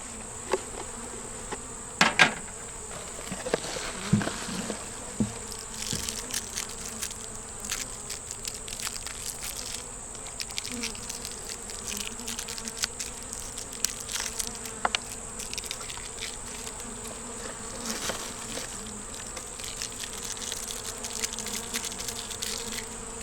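Honey bees swarm in a steady, close buzzing drone over the top of an open hive, with faint knocks and handling clatter from the hive box scattered through.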